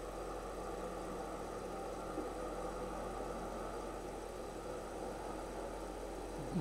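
A simulated early aircraft engine from a Wright brothers first-flight game drones at a steady, low, constant hum with no talk over it.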